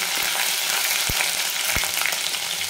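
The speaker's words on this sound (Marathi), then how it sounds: "नंतर हे जे आपण आलं लसणाचं वाटून घेतलं होतं ते टाकून घेऊ। एक मिनिटभर परतून घेऊ जरा" Ginger-garlic paste frying in hot oil on low heat for a Maharashtrian shev bhaji, a loud dense continuous sizzle with two dull thumps of a spoon against the pan, no talking.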